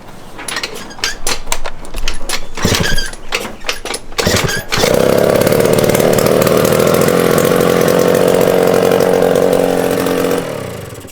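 Honda Elite scooter with a 120cc stroker engine built for racing, cranking over with irregular bursts before catching and settling into a loud, steady, buzzing idle close by, then cutting off near the end.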